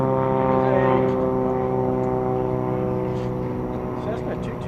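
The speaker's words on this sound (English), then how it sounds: "Cessna 210, I believe." A Cessna 210 single-engine propeller plane at around 2100 RPM, a loud steady droning engine and propeller hum with layered tonal harmonics, heard from inside the cabin with talk underneath.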